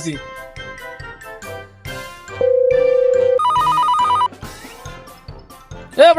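An electronic phone ring tone with steady repeated beeps plays, then shifts to a higher warbling tone, amid music and speech.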